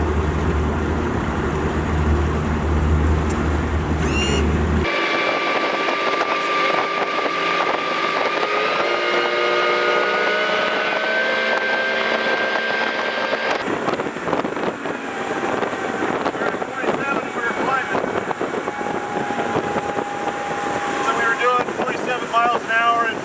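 A boat powered by a new Mercury 300 hp V8 outboard runs on a river, its engine drone loud and steady, climbing in pitch as it speeds up, with heavy wind buffeting and voices talking over it.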